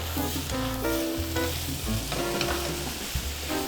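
Yakisoba noodles with plenty of vegetables and ground pork sizzle steadily as they are stir-fried in a wok with sesame oil, a continuous close frying hiss over a low tonal hum.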